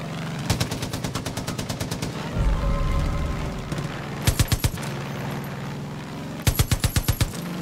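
Gunfire in Far Cry 5: rapid automatic bursts of sharp, loud shots in three groups, with a heavy rumbling thud between the first and second bursts.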